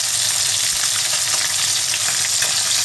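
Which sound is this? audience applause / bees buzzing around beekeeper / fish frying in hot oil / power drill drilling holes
fish frying in hot oil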